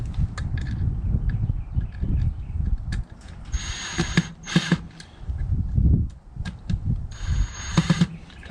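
A screwdriver tightens screws on an outdoor electrical plug cover, giving close clicking and ratcheting in two short bursts among softer handling noise.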